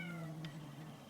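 A cat meows in a single drawn-out cry near the microphone, over a quiet room background.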